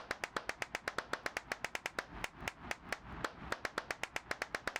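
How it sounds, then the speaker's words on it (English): Rapid, evenly spaced hand claps in a Roblox horror game that counts claps. Roughly seven sharp claps per second repeat steadily with a brief stutter midway, crisp and near. "We've been clapping for a fortnight."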